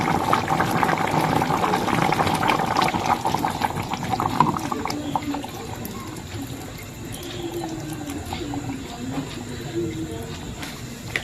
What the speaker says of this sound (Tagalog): Lagay na rin natin yung unang gata guys.